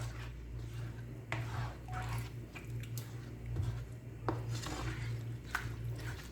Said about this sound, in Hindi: अब अच्छे तरीके से मैं इसको मिक्स कर लूँगी ताकि आइसक्रीम भी अच्छे तरीके से मिक्स हो जाए।